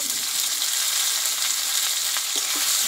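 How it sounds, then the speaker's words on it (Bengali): Pumpkin leaf paste fries together with browned onions in a pan, a steady, close sizzling hiss with small crackles and pops, no voices. "এইটা আমি ভালোভাবে একসঙ্গে ভেজে নেব"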